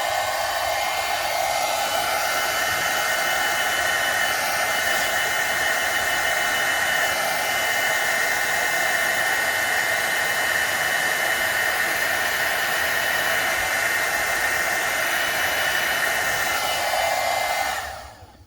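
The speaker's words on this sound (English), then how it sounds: "turn on your heat tool" Steady, loud rush of a heat tool blowing continuously to melt embossing powder, a constant hiss-like airflow that holds for the whole stretch before cutting off abruptly at the end.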